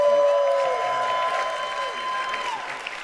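Audience at a World Championship watch party applauding and cheering, a steady dense crowd wash of clapping and voices that holds loud for about three seconds, with a faint tonal line running through it.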